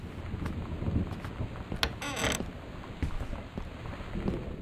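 Creaking and scraping of a dryer door that won't latch in Gone Home, a few short mechanical clunks and a rattling creak over a steady wind-like room hiss, no voices.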